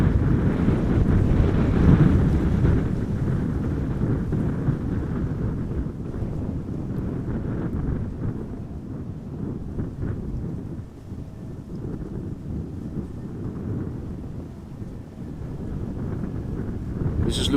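Wind roars at Amsterdam Schiphol Airport during crosswind arrivals, a loud, dense, continuous buffeting against the microphone that rises and falls in gusts and continues throughout.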